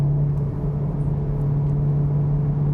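A 2018 Honda Civic Type R pulls hard, its engine a loud, steady drone with a strong low tone, heard close from inside the cabin with no talk.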